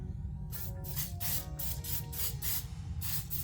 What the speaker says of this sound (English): just kind of spray all the inside of it, spray all your components up here, and make sure everything gets a nice coating